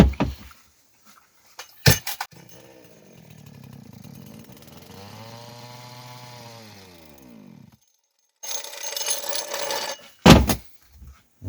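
A STIHL MS180 chainsaw starts with a few sharp pulls, then the engine idles and revs up and down in a sweeping rise and fall before cutting out, followed by loud clattering handling noises close by.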